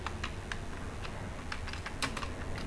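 Close, quick tapping on a computer keyboard while an email message is typed, with uneven bursts of keystrokes and a few louder clicks, nobody speaking.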